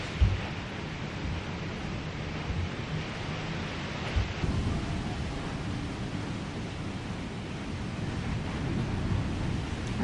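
Strong typhoon wind roars steadily and loudly throughout, a dense broadband rush with gusty surges and no voices.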